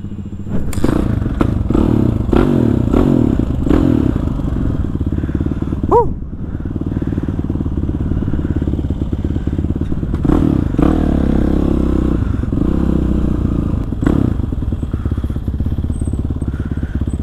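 A Kawasaki KLX 450 supermoto's starter cranks repeatedly with a steady engine-like rumble and clatter, the engine never catching, with occasional thumps and scrapes up close.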